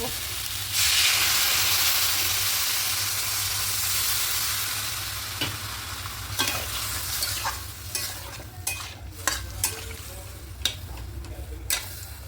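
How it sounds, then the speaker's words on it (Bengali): Taro, potato and aubergine pieces sauté with spices in a pan for a prawn curry, first a loud hissing sizzle, then a run of sharp scraping and tapping stirs against the metal, close up. "খুব ভালো করে মশলার সঙ্গে কষিয়ে নিচ্ছি সবজিগুলোকে"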